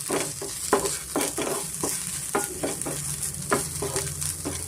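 Drumstick leaves frying in oil with a little salt, stirred in short repeated scraping strokes over a soft, steady sizzle, close up and with no talk.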